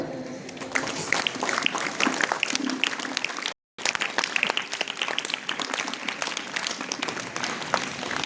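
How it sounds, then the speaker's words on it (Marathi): A room of students claps at a school event after the principal's speech, a dense, continuous burst of applause that briefly cuts to silence midway, then resumes just as strongly. "आम्ही सर्व मुलांनी त्यांच्यासाठी आम्ही टाळ्या मारूया"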